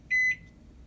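A single short electronic beep from a Toshiba ML-EM45P(BS) countertop microwave oven as its clock button is pressed. The clear tone is heard alone in a quiet room.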